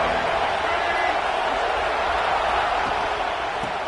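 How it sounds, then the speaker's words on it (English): A large stadium crowd roaring steadily at a college football game, a dense continuous wall of cheering noise heard from within the stands, loud and unbroken. "Listen to the crowd energy here in the early going."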